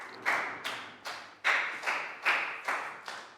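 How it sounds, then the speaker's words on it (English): A small group in a primary school classroom claps for a pupil, about eight distinct, evenly spaced claps in a steady rhythm, fairly quiet and with no talking. "a big round of applause for Pat"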